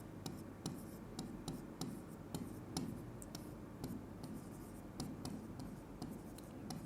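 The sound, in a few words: writing notes by hand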